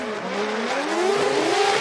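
A three-rotor Mazda RX8 drift car on a Formula Drift qualifying run in New Jersey revs loudly with rising engine pitch and squealing tires, close and continuous with no talk.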